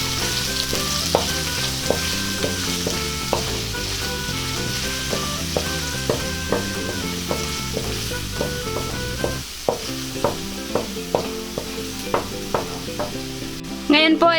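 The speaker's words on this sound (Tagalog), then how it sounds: "Pagka mainit na po yung ating mantika, ay pwede na po nating igisa yung ating bawang." Garlic, then onion, sizzling and frying in hot cooking oil in a pan, a steady loud crackle with repeated sharp stirring clinks and scrapes of a utensil throughout, no voices.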